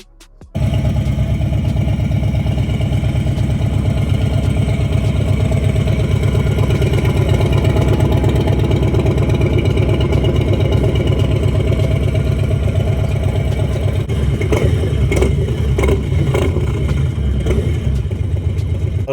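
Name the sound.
Harley Davidson Lowrider S motorcycle engine with Sawicki exhaust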